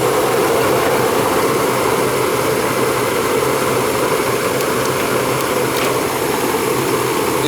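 A gas furnace runs with a steady, loud roaring whoosh of burner flame and blower, an even broadband rush that holds unchanged from start to finish.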